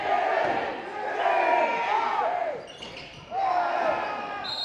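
A crowd roars and shouts at a high school boys' basketball game between St Mary's and Bishop Fenwick, with loud rising and falling voices, a brief dip in the middle, then a fresh surge of yelling.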